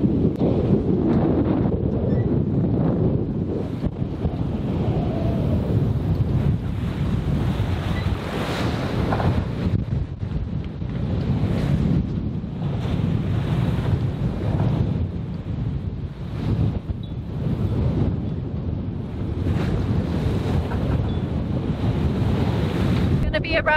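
Strong offshore wind of 27 to 30 knots roars across a microphone aboard a heavily reefed sailboat moving at about 6 knots. Waves rush and wash steadily around the hull throughout, in a loud, continuous wall of noise.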